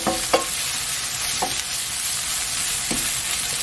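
Thinly sliced beef brisket stir-frying in a pan, a steady close sizzle with a few sharp scraping strokes of the spatula at intervals, no voices.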